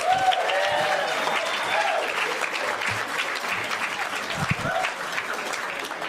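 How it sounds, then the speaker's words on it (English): A comedy club audience claps for a comedian in a sustained burst of applause with scattered cheers and whoops rising above it, slowly thinning while a voice briefly calls out. "Keep that round of applause going for Mr. Jesse Singh."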